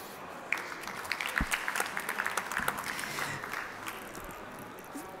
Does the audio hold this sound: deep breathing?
no